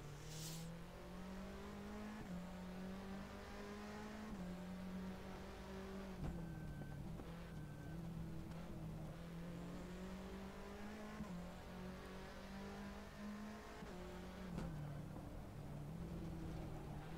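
A touring car engine revs and shifts through gears in a racing video game at Brands Hatch, a steady loud whine rising and dropping with each gear change, with occasional tire noise and no voices.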